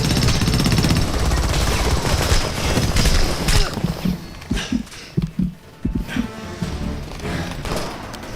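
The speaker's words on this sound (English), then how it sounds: "Machine gun, second floor window." Automatic machine gun fire from a second-floor window in the 2011 shooter game Homefront, long sustained bursts that break into choppy, stuttering volleys with heavy thuds, loud and close.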